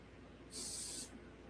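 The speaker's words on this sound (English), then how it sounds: "it's so gummy, I'm going to spray some in the threads here" Aerosol lubricant sprayed into the gummy crank threads of a 1974 Schwinn bicycle fitted with Japanese cranks: one quiet, steady hiss lasting about half a second over a faint background.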